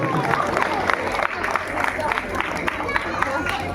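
Audience applause for a child actor who played a king and Makardhwaj in a Ramleela staging of the Ramayan, a dense continuous patter of clapping with crowd murmur throughout.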